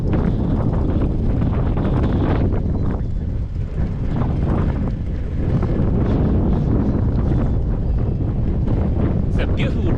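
Strong wind buffets a microphone while a cyclist rides on a sunny day, a loud continuous low roar with gusty surges throughout, overlapping the rider's speech.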